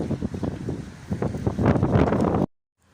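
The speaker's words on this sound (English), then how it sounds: "The wind is blowing." Wind blowing at a beach on a cloudy Christmas Eve, a steady rushing buffet that swells louder toward the end before cutting off abruptly.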